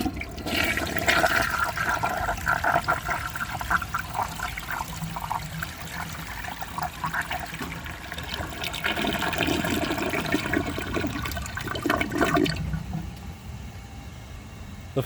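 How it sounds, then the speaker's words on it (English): A 1983 Eljer Hygeian toilet with a double-siphon flush is flushed, giving a loud, continuous rush and gurgle of water over about fifteen seconds that tapers into refilling trickles. "So let's give this a flush and see how it does on tests."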